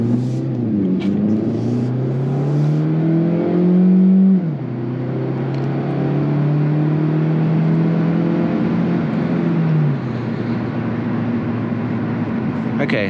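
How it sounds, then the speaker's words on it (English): A 2024 Hyundai Elantra Hybrid Limited accelerates at full throttle. Its engine note climbs in steady rising sweeps, drops at each shift and climbs again, heard from inside the cabin over road rumble. "to the floor acceleration"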